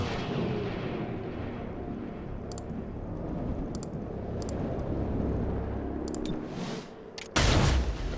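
Gunfire in the tactical video game XCOM Chimera Squad, with a low rumbling battle bed and a few sharp shots, ending in a loud burst near the close.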